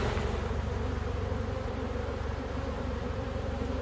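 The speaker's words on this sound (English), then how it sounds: "Shake the bees off in here." A dense, continuous buzz of many honey bees just shaken off a hive frame hums close by, steady and loud throughout with no talking.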